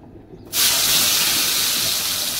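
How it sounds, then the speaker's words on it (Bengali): A pot of rice at a full boil, a steady loud hiss of steam and bubbling that starts suddenly and holds without pause, close by with no talk. "ভাত পুরো ফুটে গেছে।"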